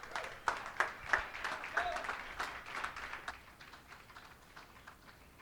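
Audience applause after a live music performance in Redmond: crisp, close claps that swell briefly, then thin out and fade over several seconds.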